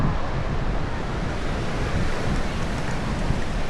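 Sea surf washes steadily against the shore at Sai Kung geopark in Hong Kong, a loud, close, continuous roar of waves mixed with wind buffeting the microphone.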